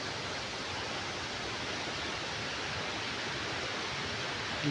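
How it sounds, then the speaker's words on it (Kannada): A forest waterfall, Horle Abbi in Kudremukh National Park, keeps up a steady, even roar of rushing water close by, with no voices. "ಫಾಲ್ಸ್ ಹತ್ರ ಬಂದಿದ್ದೀನಿ ಅಂದ್ಕೊಂಡಿದ್ದೀನಿ ಯಾಕಂತ ಹೇಳಿದ್ರೆ ತುಂಬ ಸೌಂಡ್ ಕೇಳ್ತಾ ಇದೆ"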